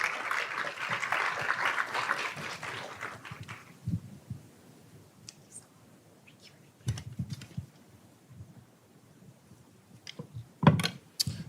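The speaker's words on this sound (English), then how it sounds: "Please give him a round of applause." An audience at a Capitol Hill luncheon applauds a congressman heading to the podium, dense clapping for about three seconds that then cuts off, leaving room noise and a few scattered thumps.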